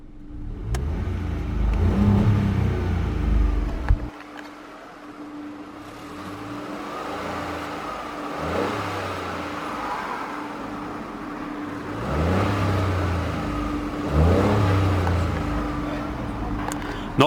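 A 2019 Ford Fiesta 1.0 EcoBoost ST-Line three-cylinder engine revs repeatedly up to a 4,000 RPM limiter, with a loud opening burst and then several rising and falling blips heard from nearby under light talk.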